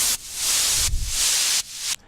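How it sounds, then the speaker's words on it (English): White noise downlifter in a dubstep loop: loud bright hiss bursts pumping in three sidechained swells with brief dips between, ending abruptly, no voices. "I have this white noise downlifter type sound."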